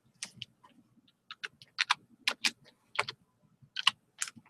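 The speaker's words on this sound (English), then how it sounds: "I got my keyboard went out, so I'm using the onboard keyboard." Close typing on a laptop's built-in keyboard comes in uneven bursts of quick sharp clicks separated by brief pauses, with no voices.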